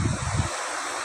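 Sea surf washes onto the shore at Barangay Kisek, Palimbang, a steady broadband rush of breaking water with a low rumbling swell at the start, mixed with light wind noise on the microphone.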